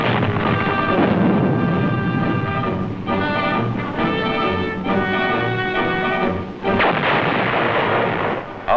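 Aerial bombing and strafing support the 1945 WW2 Okinawa operation: continuous loud, rumbling blasts and rapid gunfire roll over one another with no pause, heard on an old film soundtrack.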